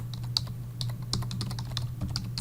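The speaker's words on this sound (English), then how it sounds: "we're going to type in" Quick, irregular clicks of typing on a computer keyboard, close and fairly quiet over a low steady hum, with no speech.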